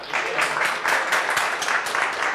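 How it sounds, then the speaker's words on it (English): A crowd applauds at a Serato DJ workshop held at BPM Supreme headquarters. Loud, close clapping comes in uneven surges, with cheers or voices mixed in. "we can't come to BPM Supreme without giving proper applause"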